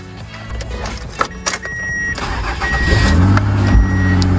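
A used car's engine cranks and starts up, then settles into a steady idle hum that grows slightly louder over a few seconds, with a thin electronic tone sounding intermittently above it.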